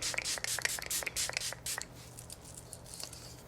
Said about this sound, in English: One more spray of the setting spray.